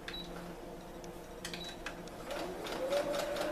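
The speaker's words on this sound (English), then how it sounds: "you're going to sew as close to the edge as possible on top of that binding" A sewing machine stitches close to the edge of a binding in a steady, faint mechanical run, with soft clicks and a low hum throughout.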